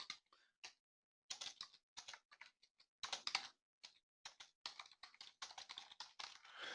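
Quiet, close keystrokes on a computer keyboard, irregular bursts of clicks separated by short pauses, with no voices.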